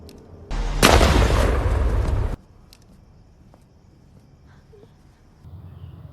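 A loud, dense burst of gunfire and blasts in the film One Night in Bangkok rips out for about two seconds, then cuts off abruptly into quiet background.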